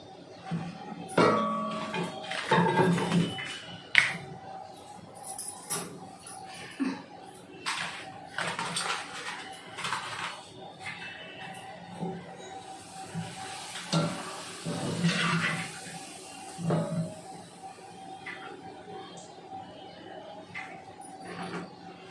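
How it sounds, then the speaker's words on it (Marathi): Papad frying in oil gives a soft crackling sizzle with scattered clinks and stirring knocks, moderately close, and a quieter stretch of bubbling in the middle. "पहिले पापड तळून घेते"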